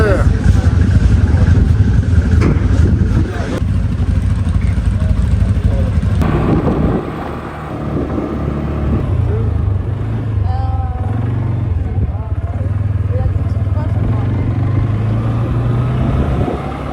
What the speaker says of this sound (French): nous sommes partis pour une balade en quad de 30 minutes